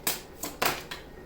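Tarot cards being shuffled and drawn close up: four quick crisp riffling flicks in an irregular rhythm, faint and brief, with no talking.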